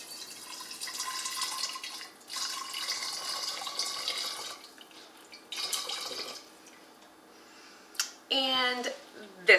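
Bone broth pours into a jar in several bursts with splashy trickling and pauses between, ending with a few clinks of glass.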